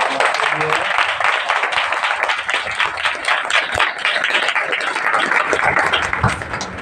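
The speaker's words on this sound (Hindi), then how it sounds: "जोरदार ताली बजाएगी प्रभु के लिए।" Applause from a church congregation after a sermon, dense steady clapping lasting the whole stretch with a voice speaking over it at moments.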